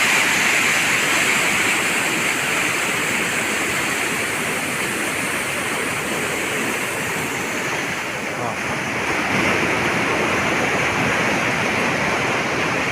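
A steady, loud rush of water flowing in a village stream channel on rural tribal land, a continuous broad roar that carries through without a break, mixed with some wind on the microphone.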